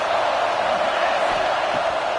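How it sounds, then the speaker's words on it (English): Football stadium crowd roaring against the opposing offense, a dense steady wall of noise from a large audience with no breaks. "This crowd trying to make life miserable for this offense."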